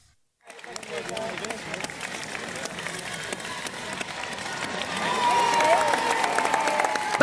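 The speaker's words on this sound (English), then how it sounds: "The crowd cheered" A large crowd cheers and claps at the start of the Great North Run, a long, dense wash of applause and voices that swells louder toward the end, with no clear speech over it.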